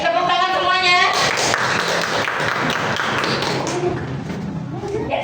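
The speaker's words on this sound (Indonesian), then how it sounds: "tepuk tangan semuanya" A classroom group claps together in a burst of scattered hand claps and taps, with voices talking over the applause as it dies away.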